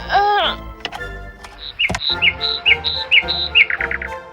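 A small bird chirps and tweets in quick, bright bursts, with a squawky call at the start followed by a series of close, clear chirps in uneven rhythm, some voice-like sounds mixed in.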